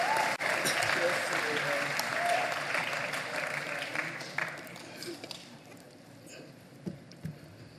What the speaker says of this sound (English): I was going to ask for an applause on that one.